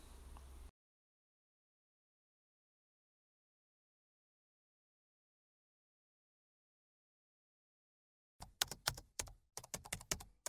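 Keyboard typing a new password for a TP-Link Wi-Fi extender, a short burst of quick close keystrokes after a long stretch of silence.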